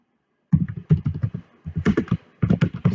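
Keywords typed on a computer keyboard, close and crisp, in quick clattering bursts of keystrokes with a short pause midway.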